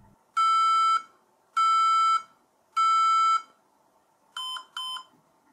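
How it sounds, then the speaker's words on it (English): Beep codes from an HP ProDesk 600 G2 Mini desktop signalling a memory initialization fault: three long, evenly spaced electronic beeps, then two shorter quicker beeps, loud and clear in a quiet room. "We can clearly hear 3 beeps with the red LED light, followed by 2 more and a white light."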